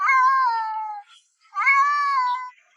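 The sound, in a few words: cat meowing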